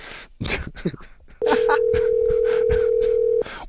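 A steady telephone dial tone sounds for about two seconds while a call is placed, a single sustained hum heard clearly alongside brief talk and handling noises before and after it.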